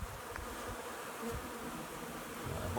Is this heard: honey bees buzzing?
yes